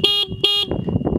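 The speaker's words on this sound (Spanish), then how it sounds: "Ahí están, y también el claxon." The horn of a Ducati Hypermotard 939 motorcycle, given two short loud bright honks in quick succession close by, followed by faint background noise.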